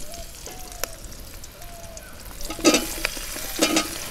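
Cut okra fries in a pan with a soft sizzle, a few faint utensil clicks and two louder scraping bursts near the end, close up and with no voices.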